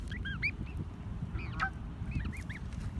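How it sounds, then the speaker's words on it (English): A baby goose at a pond gives several thin, high, rising peeps in quick bursts, fairly near, over a low rumbling outdoor background of wind and ambient noise. "Baby goose."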